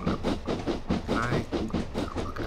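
Train in Train Simulator climbing a hill slowly, a steady rolling rumble with repeating rhythmic clacks of wheels over rail joints, continuous and moderately loud with no talk.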